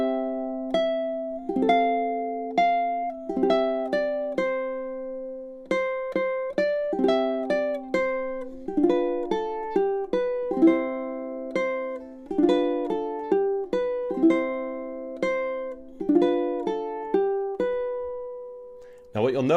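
Ukulele chord melody playing the third verse with its ending, plucked chords and single notes in a steady, moderately paced rhythm, close and clear, slowing into a final held chord.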